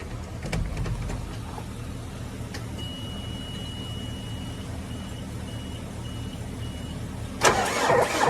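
A car engine cranking on a weak, nearly worn-out battery in icy conditions: a steady, labored low churning lasts several seconds with no talk, then a louder burst sounds near the end.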